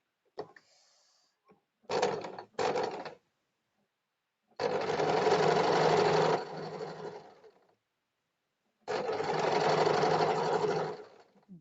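Domestic sewing machine stitching a blouse, several separate bursts of rapid mechanical whirring and clatter, two short ones then two longer runs, with quiet pauses between, close and moderately loud.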